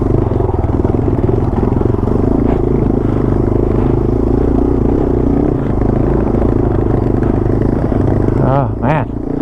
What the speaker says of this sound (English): TDUB is pooping and a peppering, but it's doing it.